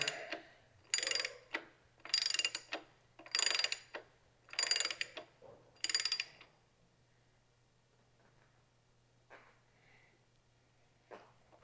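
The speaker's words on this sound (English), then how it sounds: "Put just a little bit of torque to it." Ratchet wrench snugging bolts while fitting a keyswitch elimination harness on a Yamaha R7 motorcycle: five quick bursts of clicking ratchet strokes, close and crisp, followed by a few faint mechanical clicks and near silence.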